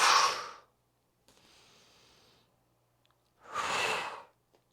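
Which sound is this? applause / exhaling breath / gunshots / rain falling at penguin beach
exhaling breath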